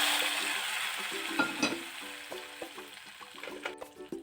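Hot oil tempering sizzles sharply as it is tipped into a pot of drumstick-leaf dal, then settles into a fading crackle mixed with light scraping and clinks.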